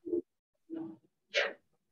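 A single person's sneeze heard faintly over a call: two short in-breaths followed by a sharp, bright expulsive burst.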